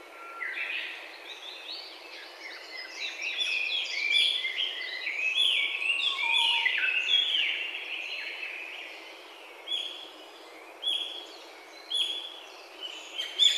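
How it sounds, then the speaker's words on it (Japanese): Japanese pygmy woodpecker calling in a woodland during a bird survey, among a busy mix of thin, high chirps and short calls from several birds, moderately distant, with no talking. "今、ビーって小ゲラの声が、またしましたが"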